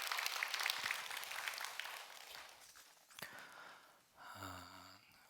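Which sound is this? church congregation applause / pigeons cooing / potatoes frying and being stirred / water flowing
church congregation applause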